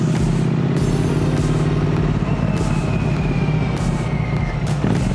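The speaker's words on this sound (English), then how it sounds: "I can still hear the beautiful sound of the bike" A motorcycle rumbles steadily during a ride, its engine a low drone mixed with wind and road noise, with a faint whine of other traffic passing.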